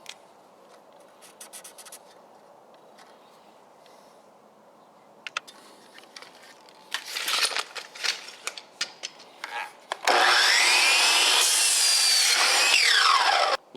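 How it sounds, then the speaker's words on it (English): Saw cutting the flared ends off PVC electrical conduit: light scraping strokes at first, then a loud continuous high-pitched whine of cutting toward the end, with no talk. "I'm going to cut the ends off of the electrical conduit here."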